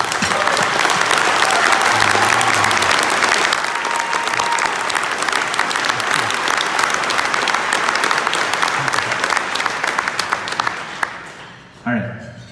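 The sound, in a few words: audience applause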